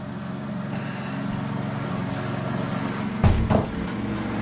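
A lawn mower drones steadily nearby as a constant low engine hum, with a brief louder clunk or bump partway through.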